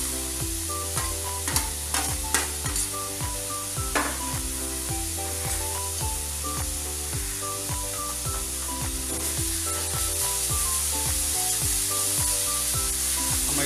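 Grated carrots sauté and are stirred in a pan for carrot halwa, a steady sizzle with scraping stirs running beneath music for the whole stretch.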